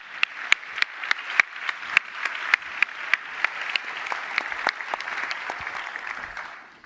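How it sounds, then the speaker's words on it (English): Warm audience applause for panelists at a conference forum session, a few distinct loud claps at first building into steady hall-wide clapping that tapers off. "our panelists merit a warm applause"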